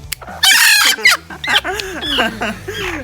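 A hen rouses from a hypnotised, motionless state and breaks into loud, close clucking and squawking calls, several bursts in quick succession with a long harsh cry near the start, no talking over it.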